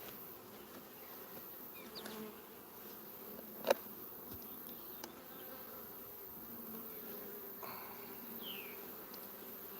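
Honey bees hum inside an opened beehive, a steady, soft, continuous buzz with a few brief louder passes close by.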